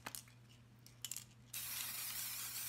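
Edible luster dust sprays from a can onto a diamond ring cookie in a single close, steady hiss that starts abruptly after a few light taps and clicks.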